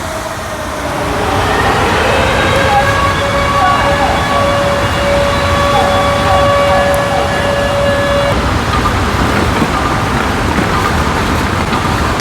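A long wailing air raid siren holds a steady tone for several seconds over a constant rumbling background, then cuts off, leaving only the rumble.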